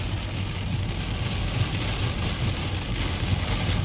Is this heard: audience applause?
no